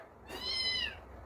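A cat meows once for food, a single clear, close cry rising and falling over about half a second, with no talking.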